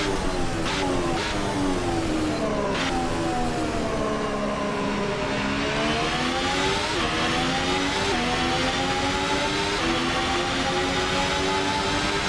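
ASR-H 2020 concept open-wheel race car in the Assetto Corsa racing game, its engine droning and shifting pitch steadily as it rounds a corner, loud and continuous with no talk.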